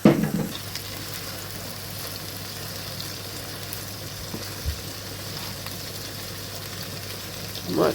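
Rissoles sizzle in a frying pan in a home kitchen, a steady soft crackle with occasional spits and a faint low hum, plus brief clatter at the start and end.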